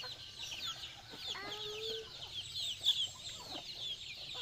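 Chicken clucking and squawking faintly while being caught outdoors in a rural province, with short agitated calls over a quiet background.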